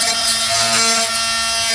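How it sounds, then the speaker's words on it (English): An oscillating multi-tool cuts close beside a broken ball valve fitting, giving a steady, loud, high-pitched buzzing whine with no pauses and no talking. "So I'm gonna stick to the multi-tool."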